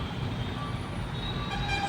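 Dense road traffic of cars and bikes jammed on a service road between Electronic City and Hosur, a continuous low rumble with brief high horn toots near the end.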